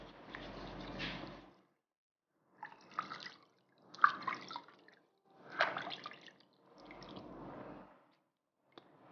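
Water splashes and drips while body scrub is rinsed off skin, in several soft, close bursts of wet sloshing separated by brief silences.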